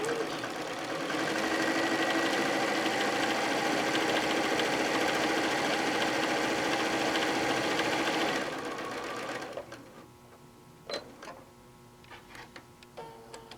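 Top stitching on a fabric book with a sewing machine, a loud close continuous whir that runs for about eight seconds, then stops, leaving a few scattered light clicks and ticks.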